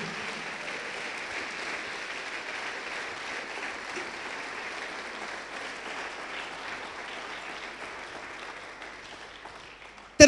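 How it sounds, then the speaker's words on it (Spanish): Steady applause from a church congregation fills the space, sustained and even for several seconds before ending abruptly. "Un aplauso al Señor."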